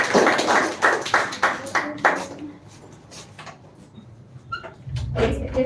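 Students clap for a speaker at an English speech competition, a short burst of scattered claps that quickly fades to quiet before a voice starts speaking.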